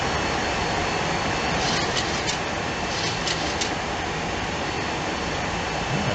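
A Boeing 737-200 in the X-Plane flight simulator gives a loud, steady jet-engine roar that holds constant throughout.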